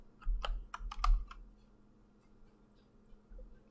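A few quick, light clicks from a computer keyboard spacebar tap out in a short burst, close and quiet, followed by a faint lone click after a pause.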